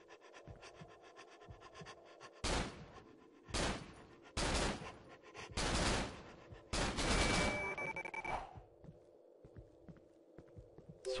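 Several loud bursts of rapid gunfire in the video game Cry of Fear, separated by short pauses, with quieter footsteps and shuffling in between.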